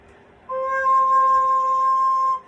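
An overblown soprano recorder tone, a shrill high C blending with the low C, held briefly for about two seconds, bright and close.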